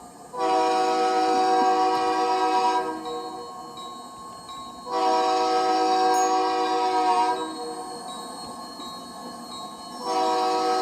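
A train in the Rails Unlimited video game sounds long, loud horn blasts, three sustained chord-like blows separated by brief gaps, over a low rolling rumble with no talk.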